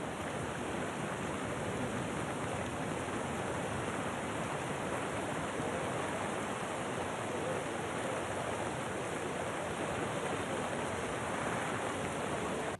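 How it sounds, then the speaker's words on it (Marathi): Dense, steady rush of heavy rain and floodwater on Andheri's SV Road in Mumbai, where the road has turned river-like and traffic has stopped; loud and continuous throughout with no breaks and no voices. "मुंबईमध्ये मुसळधार पावसामुळे आता सकल भागांमध्ये पाणी साचायला सुरुवात झाली आहे"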